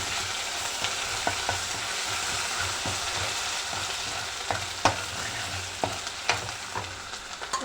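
Onions frying in oil in a pan for vankaya pulusu, a steady close sizzle with occasional light scrapes and taps of a stirring spoon, no talk.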